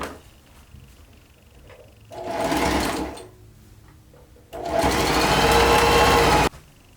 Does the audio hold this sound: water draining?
no